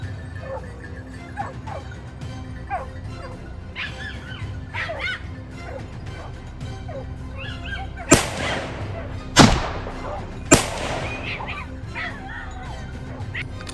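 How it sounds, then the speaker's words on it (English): Hunting hounds bark from bushes on a mountain slope where wild boar are hunted, several sharp yips and barks spread through the clip, with three louder close barks standing out near the end over outdoor background noise. "the hounds barked loudly from the bushes below"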